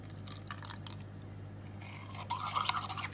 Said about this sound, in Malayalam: ഇനി ഇതിലേക്ക് പാല് ചേർത്ത് കൊടുക്കാം.